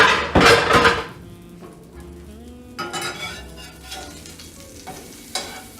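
Plant-based Beyond Burger patties fry in a pan with a continuous soft sizzle, broken by loud scraping and clattering of a spatula against the metal pan.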